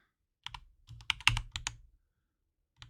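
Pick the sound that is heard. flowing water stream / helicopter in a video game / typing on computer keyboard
typing on computer keyboard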